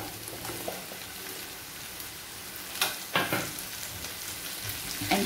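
Slit ivy gourd frying with onions in a pan gives a steady, close hiss of sizzling oil, broken by a few sharper crackles and stirring clatters, with no talking.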